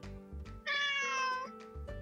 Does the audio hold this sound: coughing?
no